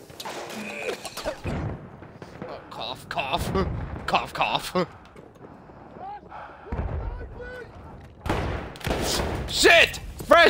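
Gunfire and booming explosions fill a Battlefield 1 match, with a shotgun among the weapons. Heavy blasts and sharp shots come in dense clusters, loud and close, while players talk over the noise.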